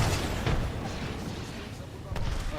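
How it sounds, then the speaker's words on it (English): Grenades burst during a ranked Apex Legends championship match, a few dull booms rumbling over constant game noise and commentator talk. "It's more of a demolition nade by the sounds of things."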